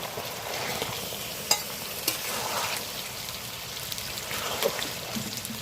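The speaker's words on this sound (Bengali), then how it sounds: "এবার মেরিনেট করা মটনটা দিয়ে দিচ্ছি" Marinated mutton frying with spices in a pan, giving a steady close sizzle with a few sharp clinks and stirring scrapes.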